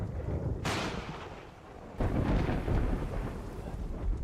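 Thunder in the video game Terraria during a storm, with two heavy rumbling crashes, the second starting about halfway through and rolling on loudly to the end, no talk.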